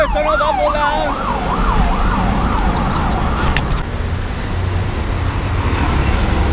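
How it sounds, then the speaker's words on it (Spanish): A loud wailing ambulance siren sweeps up and down in rapid cycles over heavy traffic and road noise, then fades under the rumble. "¡Ese sonó de la ambulancia!"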